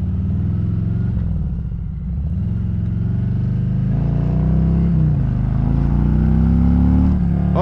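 A bagger motorcycle engine revving up and down in repeated swells, a loud close throaty rumble whose pitch rises and falls several times with no talk over it.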